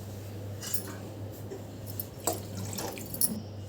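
Water is poured into a pot of pepper rasam with tamarind and rock salt, making soft, close splashing and trickling with a few sharper drips and plinks.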